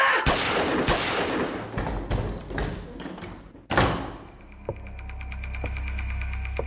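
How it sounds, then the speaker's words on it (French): Two dull, heavy thuds ring out in a courtroom during a hostage-taking at a criminal court, the first early and the second a few seconds later, set against a busy, reverberant background with scattered sharp taps afterward. "2 bruits sourds, des coups de feu en fait"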